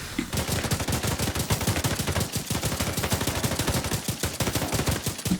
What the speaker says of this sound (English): Nice hip fire, noob.